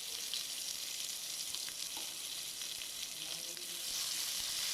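Onions fry in oil in a pan for sambar with a steady, bright sizzle and a few soft stirring scrapes, no talking.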